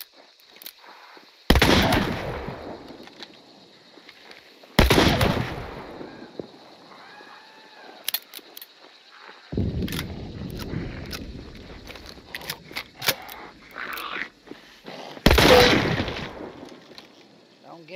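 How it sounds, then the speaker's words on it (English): Double barrel shotgun blasts in Hunt: Showdown, four loud, sharp booms spaced a few seconds apart with quieter rustling and movement between them, plus a lower rumbling stretch in the middle and steady background ambience. "Double barrel shotgun."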